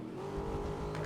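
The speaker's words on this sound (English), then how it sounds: "The Cuda sounds good." Plymouth Barracuda in the racing video game GRID, a short, quiet engine rev with a steady low rumble and a sustained tonal note.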